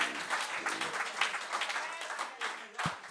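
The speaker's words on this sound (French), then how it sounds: "Au nom de Jésus-Christ, acclamons très fort le Seigneur." A church congregation at a French-language online worship service claps steadily and cheers as a crowd, a loud, continuous wash of applause with voices mixed in.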